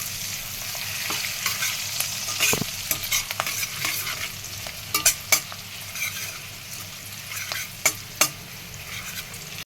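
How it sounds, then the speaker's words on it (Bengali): Spiny gourd frying in a pan with salt and turmeric, stirred with a spatula: a steady, close sizzle with scattered sharp scrapes and clinks against the pan, and no voices. "এতে আমি একটু নুন দিলাম, একটু হলুদ দিয়ে দিলাম, দিয়ে একটু নাড়াচাড়া করে নেব।"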